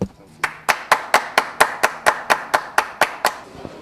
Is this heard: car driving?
no